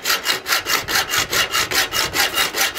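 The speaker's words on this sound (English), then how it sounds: "So hacksaws are good for cutting PVC pipe using a metal blade" A hacksaw with a metal blade cuts through PVC pipe in quick, even back-and-forth strokes, about three per second, each rasping stroke loud and close.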